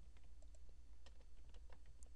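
Computer keyboard typing, a string of quick, light key clicks in an irregular rhythm, close by and fairly quiet over a low steady hum.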